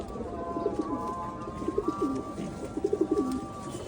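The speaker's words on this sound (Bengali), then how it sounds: "এই যে আরেকটা আমাদের নর কবুতর" Male pigeons in a loft give soft, rolling coos in three short bursts against a low background hum, with no talking.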